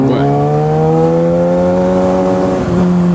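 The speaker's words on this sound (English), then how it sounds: "depending on the exhaust you get on this bike, it just sounds so good" A Kawasaki ZX-6R motorcycle engine holds a steady, high rev with strong harmonic tones, dipping slightly near the end, loud, close and continuous.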